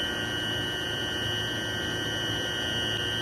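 Steady, loud machine hum from an irrigation rig in a corn field, a constant droning tone with high whining overtones running unchanged throughout, no voices.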